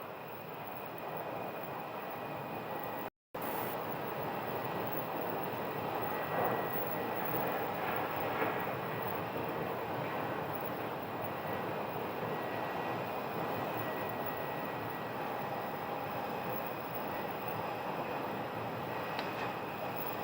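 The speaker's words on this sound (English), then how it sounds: "And we just had a landing aircraft." An American Airlines A319 lands at Phoenix Sky Harbor, heard as a broad, steady jet roar from a distance that holds level throughout, broken once by a brief dropout.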